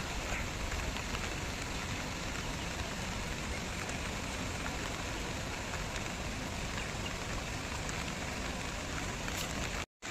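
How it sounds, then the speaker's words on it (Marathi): Steady, dense rain hisses without pause on a hillside, with water pouring and running beneath it, loud and close until a sudden brief cut near the end. "तिकडे पण पाणी खूप वाहतोय."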